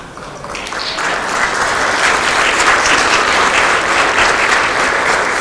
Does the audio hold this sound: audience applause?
yes